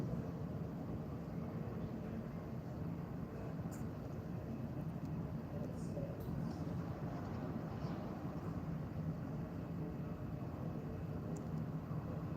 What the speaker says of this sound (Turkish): bir uçak daha inişe geçti